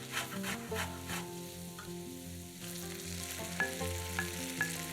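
Grated carrot sizzles with onion and pork belly in a pot, a continuous close crackle with a few sharp stirring clicks, alongside steady background music and no voices.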